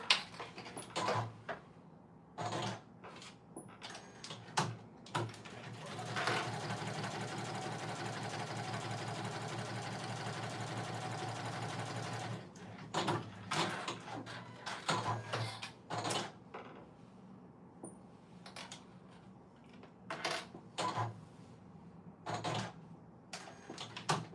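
Small sewing machine stitching Oakley bottoms, running in short stop-start bursts, with one long steady hum lasting several seconds, all fairly quiet and close with no talking.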